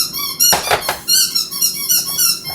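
A pet dog named Fig squeaks and whines excitedly in the background, high-pitched yelps coming in repeated bursts, with no one talking.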